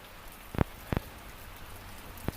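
Rain falling around a 1997 Chevy S10 SS, a soft, steady hiss broken by a few louder, sharp drops hitting a nearby surface.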